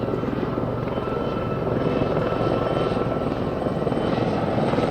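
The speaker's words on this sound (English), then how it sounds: "the Lynx. What an amazing helicopter doing that backflip" Westland Lynx helicopter performing a backflip at an air display, its rotor and engine roar loud and steady throughout, dense rhythmic blade chop with no voices.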